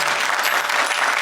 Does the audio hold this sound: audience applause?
yes